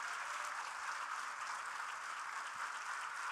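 Applause from attendees at a Gujarati spiritual shibir session, a soft, even, distant patter of many hands clapping that stays steady throughout.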